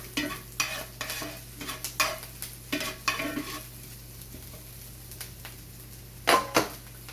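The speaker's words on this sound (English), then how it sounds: "And I'm just stirring these around real good." Cabbage and squash fry in a pan as a utensil stirs and scrapes them in a series of close, uneven strokes over a soft sizzle, with a louder double clatter near the end and no talking.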